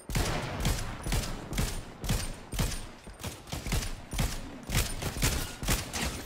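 Rapid automatic assault-rifle fire in the video game Fortnite, loud repeated bursts of shots in a steady driving rhythm with no pauses, dense and close.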